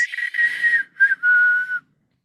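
People trying to whistle a song intro: a close, loud, clear whistled tone in short broken phrases that slides in pitch, then cuts off into silence.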